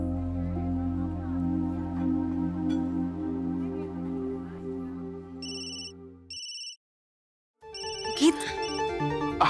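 A phone ringtone plays in short repeating electronic beeps after a stretch of background music, followed by a brief gap and a voice.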